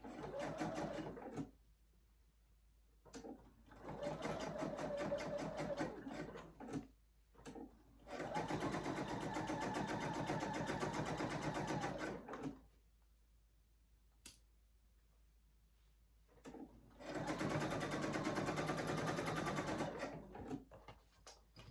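A sewing machine stitching a zipper project bag runs in three bursts of rapid, even stitching, separated by short quiet pauses with a faint click or two between them.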